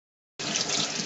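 Kitchen tap suddenly turned on, water running steadily into a sink while vegetables are scrubbed with textured scrubbing gloves, an abrupt start after silence followed by a constant close splashing hiss.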